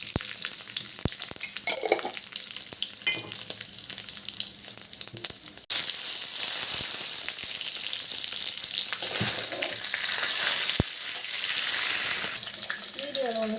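Dried red chillies and asafoetida powder crackle in hot oil for Tamil milagu rasam, a steady close frying sizzle that brightens and grows louder midway, with a few faint clinks.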